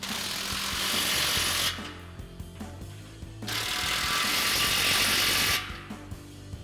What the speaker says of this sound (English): We'll go ahead and tighten down our 2 muffler outlet clamps.